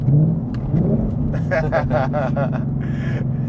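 A Ford Mustang V8 engine rumbles and revs loudly from inside the car on the Anglesey race circuit, a steady deep roar with a rising rev and brief gear-change bursts, and a voice talks over it.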